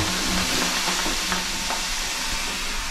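A steady, enveloping hiss of steam fills a sauna after a snowstorm dive in Vancouver, Canada, constant and fairly loud with faint rustles underneath.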